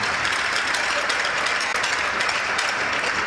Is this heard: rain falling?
no